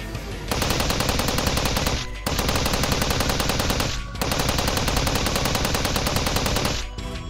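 Rapid machine gun fire from Steins;Gate 0 in long sustained bursts, loud and close, with short pauses between three extended volleys.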